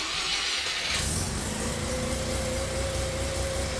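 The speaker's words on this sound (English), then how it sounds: "It idles high, but it works." A Mazda RX-7 rotary engine cranks and catches at about one second, then settles into a steady, fast idle with a sustained whine, loud and close with no talking.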